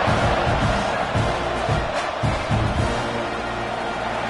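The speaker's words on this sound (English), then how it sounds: "this crowd is buzzing after that last score" A football stadium crowd roars with a dense, steady buzz after a score, loud and continuous throughout with no single voice standing out.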